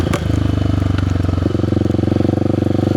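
Kawasaki KLX300 dual-sport motorcycle engine while riding on a freshly tarred road, a loud steady single-cylinder thrum with a rhythmic pulse, shifting in pitch partway through, close up.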